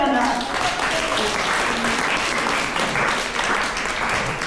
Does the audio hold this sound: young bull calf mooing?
no